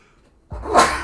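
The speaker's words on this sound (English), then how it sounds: "Been trying to hold that sneeze in." A single loud, close sneeze bursts out after a brief quiet moment, sharp at the onset and trailing off into a breathy release.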